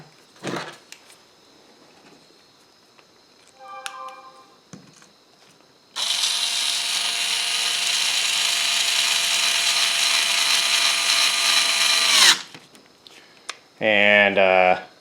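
A power drill drives screws into the plastic base plate of a ZD Racing Pirates 3 RC car, a loud steady whir lasting about six seconds after quieter handling noises, with a short tonal sound at the end.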